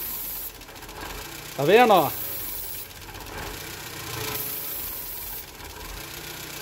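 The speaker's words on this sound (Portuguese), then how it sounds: "O motor ele vai tremer, ele vai perder a aceleração" A car engine with a vacuum leak idles with a hissy, uneven, misfiring tone that wavers and pulses, while a person says a few words partway through.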